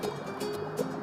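Water poured onto a soil sample on a scale during an oedometer lab test, a faint close trickle and dripping over about a second, against a quiet room background.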